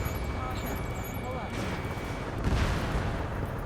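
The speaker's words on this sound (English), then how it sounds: "Gunfire and the roar of jets echoing through the streets." Gunfire crackles under a low, rumbling jet roar that swells near the end, from the video game Ace Combat 7, playing in the background.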